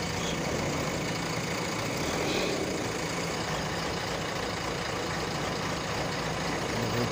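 A heavy truck loaded with stones, its engine labouring with a steady low drone and constant rumble, close and unchanging throughout, with no talking.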